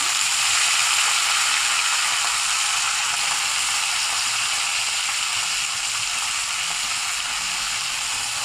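Leafy greens fry in a pan, giving a dense, even, loud hiss that holds steady throughout without breaks.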